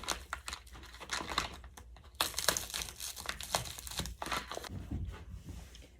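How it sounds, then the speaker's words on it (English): Plastic shrink wrap is peeled and pulled off product packaging, giving close, irregular crinkling and tearing bursts with brief pauses between handfuls. "Begin by carefully removing the shrink wrap from the outside of your packaging."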